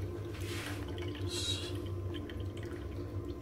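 Fresh coriander rinsed under running water in a home kitchen, a steady splashing wash with a few brighter bursts of water, close and moderately quiet, with no talking.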